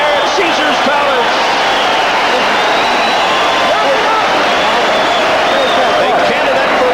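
Arena crowd at Caesars Palace roaring steadily throughout a heavyweight boxing bout, a dense, continuous wall of cheering and shouting with no let-up.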